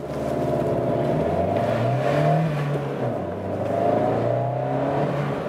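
Fiat 124 Spider convertible accelerating, its engine revving up through the gears with rising pitch, a brief dip at a gear change, then climbing again, heard steadily from inside the car.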